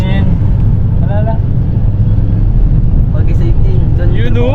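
Engine noise inside a moving bus rides under the talk, a loud, constant low drone with road rumble. Children and adults chatter excitedly throughout.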